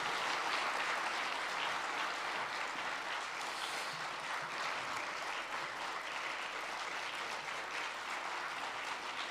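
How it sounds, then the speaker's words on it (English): Sustained audience applause fills the room, a dense, even wash of clapping from many hands continuing steadily throughout with no voices. "So a big round of applause for Frank, John, and Frank."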